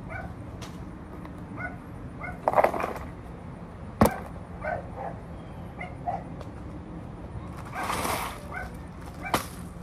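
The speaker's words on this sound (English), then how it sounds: "Y'all gonna hear my mom's dogs barking because we just pulled up" Several dogs bark and yip in scattered, irregular bursts outside a house as a car pulls up, some barks close and sharp, others further off, with faint whimpers between and background noise throughout.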